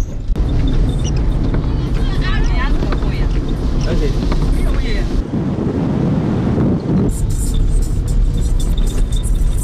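A taxi ride in Ghana carries rumbling engine and road noise with strong wind buffeting the microphone, loud and continuous, with a voice briefly heard over it.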